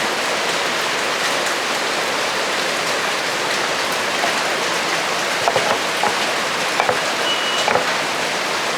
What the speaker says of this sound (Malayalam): പുറത്ത് മഴ തകർക്കുക അല്ല എന്നാ ചെയ്യാനോ ഭയങ്കര മഴ